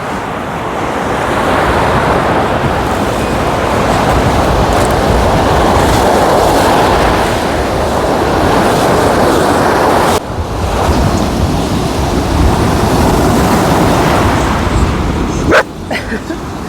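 Strong wind rumbles and buffets the microphone over crashing surf on the seafront at Kryzhanivka, with a faint dog bark and a couple of sharp knocks near the end.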